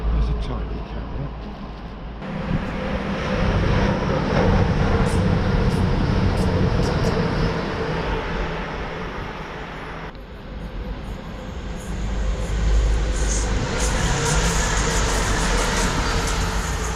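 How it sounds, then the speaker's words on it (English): A passenger train running from London St Pancras to Nottingham rumbles through Wellingborough railway station, a steady loud roar with rising and falling wheel and engine noise over about seventeen seconds, nearby and continuous. "This is a train coming from London St Pancras and it's going through to Nottingham."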